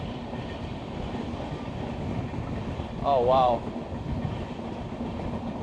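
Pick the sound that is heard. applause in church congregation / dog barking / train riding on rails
train riding on rails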